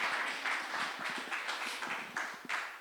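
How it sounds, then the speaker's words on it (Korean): A church congregation at a Friday sermon gives a round of applause, a moderately loud patter of many hands clapping in a brisk, fairly even rhythm. "우리 박수 한번 칠까요?"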